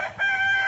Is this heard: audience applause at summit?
no